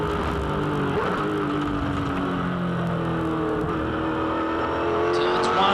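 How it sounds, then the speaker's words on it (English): V8 Supercar racing car at Pukekohe Raceway flaring over bumps in 5th gear down the front straight, engine droning loud and steady near the rev limiter, with a commentator talking over it throughout. "Just hear the car flaring across the bumps, just touching the rev limiter in 5th gear down the front straight"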